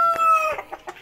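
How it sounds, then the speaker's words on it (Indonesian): A Bangkok rooster on a poultry farm lets out a short, loud, close crow, followed by a few quick clucks, with no speech over it. "Ini ayam bangkok"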